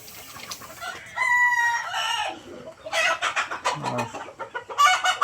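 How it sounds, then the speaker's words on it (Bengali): Farm chickens on a small-scale poultry farm cluck and squawk nearby, with a rooster's crow rising among repeated bursts of hen calls; a single brief spoken word is heard. "এখানে কিছু ফার্মি মুরগি আছে।"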